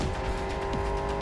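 A car speeds through a chase in Cyberpunk 2077, a constant engine roar with road noise over a short, steady stretch.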